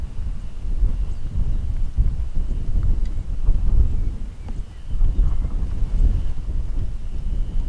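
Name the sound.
strong wind blowing outdoors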